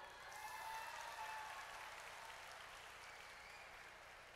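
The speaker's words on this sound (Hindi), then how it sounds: "50-50 के लिए तालियां हो जाएं." An audience at an entertainment performance during a medical association convention applauds steadily, a dense wash of many hands clapping at a distance, holding evenly and tapering slightly toward the end.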